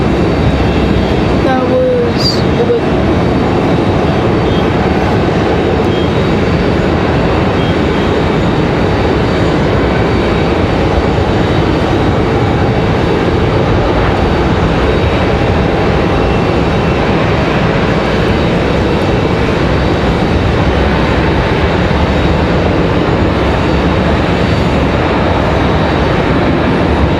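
An Icelandair airliner taxiing at Raleigh-Durham airport produces a loud, continuous engine rumble and whine that holds steady throughout, with faint voices underneath.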